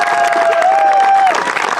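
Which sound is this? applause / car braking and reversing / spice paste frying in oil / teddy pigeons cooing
applause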